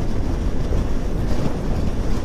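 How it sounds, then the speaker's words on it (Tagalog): Strong wind buffets the microphone during a ride out of Baler, Aurora, a loud continuous low roar with no talk. "Lakas talaga ng hangin oh."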